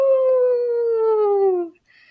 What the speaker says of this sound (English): suddenly they hear howls